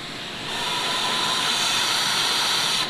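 A shop vacuum sucks fluid out from around the 6G72 twin-turbo engine of a 3000GT VR4, a steady loud hissing roar that starts up after half a second and holds even, close by and alone.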